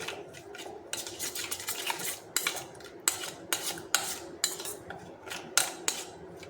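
A spoon clinks and scrapes against a bowl while jeera puri dough ingredients, including ajwain, salt and ghee, are stirred together, giving close, irregular taps and scraping strokes with no talking.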